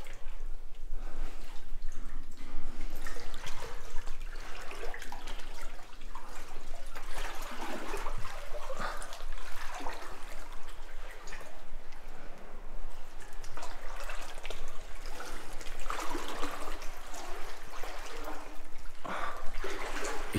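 Water drips and trickles continuously inside a flooded World War II bunker, an echoing wet splashing that stays fairly steady throughout, with faint voices now and then.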